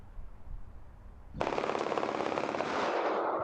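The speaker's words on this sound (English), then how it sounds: "A barrage of gunfire outside a DC school today." A sudden, loud barrage of rapid gunfire from a semi-automatic rifle outside a Washington, DC school, captured on security footage; after a quiet stretch of street noise, the shots erupt and continue as a dense, sustained rattle to the end.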